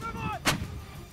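A lightweight L119 howitzer fires a single round, a sharp, loud boom cutting through a steady background rumble, with a faint tonal whine just before it.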